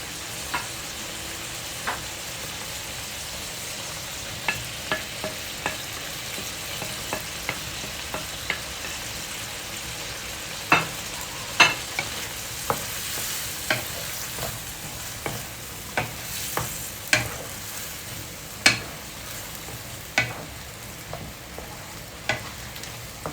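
Low, steady bubbling and sizzling of fried prawns cooking in boiling gravy in a pan, broken by sharp scrapes and taps of a spoon, with no one speaking.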